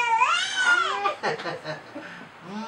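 A cat gives a long, drawn-out meow followed by shorter wavering cries, close and fairly loud, with no voices around it.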